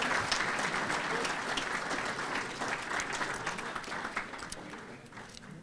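An audience at the Bristol Sports Hall of Fame 2024 ceremony gives Tom Monahan a round of applause, a steady, sustained wash of clapping that fades slightly near the end.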